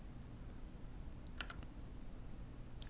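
Text is typed on a computer keyboard, a short run of soft, scattered key clicks against a low background hum.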